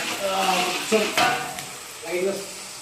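Chopped onions and ginger sizzle and fry in a pan for cashew chicken, with stirring scrapes and a few clinks of a utensil against the pan over a steady frying hiss.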